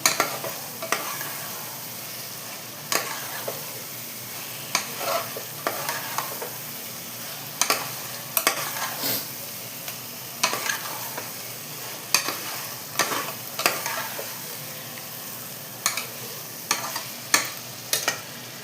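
Marinated prawns cooking in biryani masala in a pan, a soft continuous sizzle broken by repeated sharp spatula scrapes and taps at an irregular pace, close and alone.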